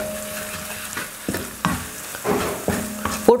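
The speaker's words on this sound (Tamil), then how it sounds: "இந்த எண்ணெயிலேயே நம்ம மசாலா வறுக்கிறப்ப அந்த பச்சை மணம்லாம் நல்லா ஈஸியாக போயிடும்." Masala fries in oil for a goat head dish, a continuous close sizzle with the spoon repeatedly scraping and stirring the pan, ending in a louder clatter.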